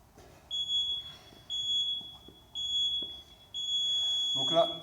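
Tabata workout timer in a CrossFit gym beeping four times, each a sustained high electronic tone lasting about a second, evenly spaced and fairly close, with faint movement and voices in the background.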